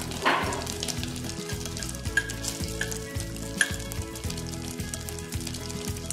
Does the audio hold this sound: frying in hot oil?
yes